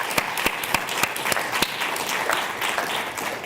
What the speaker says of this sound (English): we give a round of applause to our speakers and to our organisers